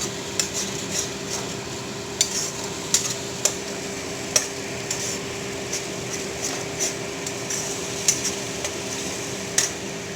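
Sliced onions frying in a pan for chicken with sesame, a steady soft sizzle with occasional sharp clinks of a utensil stirring against the pan, close and without talking.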